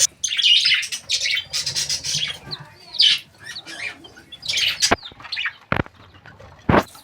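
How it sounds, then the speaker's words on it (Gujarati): Pet budgerigars chirp and squawk in bursts close by as they are fed, with wing flutters and scrabbling sounds in between. A few sharp louder calls stand out near the end. "તો આપણે બજીઝને પણ હવે ચણ નાખીશું"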